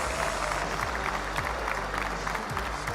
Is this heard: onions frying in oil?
no